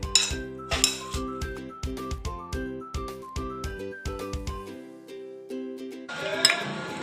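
A spoon clinks steadily against a bowl while carrot, green chili and coriander are stirred together, the bright metallic taps coming in a quick regular rhythm, then a short rustling scrape at the end.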